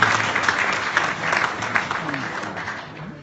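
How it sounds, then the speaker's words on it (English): A crowd at a voter registration launch event in Zimbabwe applauds steadily, the clapping fairly close and sustained before easing off slightly toward the end. "let's give Chirikure a big round of applause"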